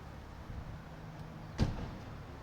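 A car door slams shut once with a single dull thud midway through an otherwise quiet early-morning moment, with faint background hum before and after.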